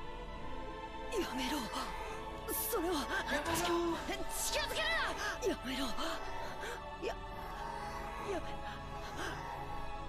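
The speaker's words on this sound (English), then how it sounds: "Sounds like people screaming, kind of." Eerie, warped wailing and breathy screams rise and fall over a droning background, like heavily distorted voices, in the game Umineko.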